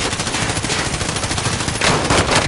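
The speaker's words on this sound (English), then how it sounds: "Shit, I'm taking fire." Rapid, loud automatic gunfire in a video game, a dense continuous burst of shots rattling close for the whole stretch with no pause and no voices over it.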